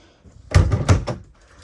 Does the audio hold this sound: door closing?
yes